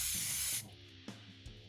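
Aerosol spray can laying undercoat on a miniature figure: a steady, close hiss for about half a second, then a few short, lighter bursts and clicks as the nozzle is tapped.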